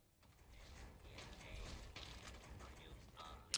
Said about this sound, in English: I hear a machine walking around